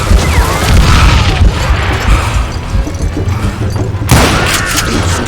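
Heavy gunfire in Call of Juarez Gunslinger, set in a mine: dense, loud volleys of shots and booming blasts run almost continuously, with a brief lull before another burst.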